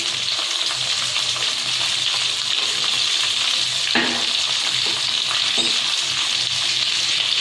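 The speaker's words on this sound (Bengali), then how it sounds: "আলুটাকে আমি ভালো করে ভাজা করে নিচ্ছি।" Potatoes seasoned with salt and turmeric frying in hot oil in a pan, a loud, continuous sizzle with occasional scrapes of a spatula stirring, close and without any talking.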